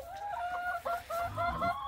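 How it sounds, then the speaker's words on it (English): Several farm chickens cluck and squawk close by in a busy, overlapping chorus, eager for food on a snowy family farm, with short repeated calls and no talk. "these chickens are all acting like they're starving"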